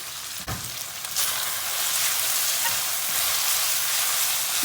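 Steady crackling sizzle of zucchini frying in hot oil, close and continuous, with a brief clatter near the start.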